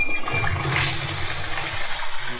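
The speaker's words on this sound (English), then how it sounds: "got a shower head here that we're going to rinse these off with" Water sprays steadily from a shower head onto animal skulls during cleaning, a continuous close hiss and splash that runs alone for a couple of seconds.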